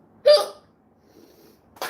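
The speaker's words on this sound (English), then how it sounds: "Really hard to talk through a hiccup." Two sharp, loud hiccups from a person who has been eating potato, one near the start and one at the end, separated by near silence.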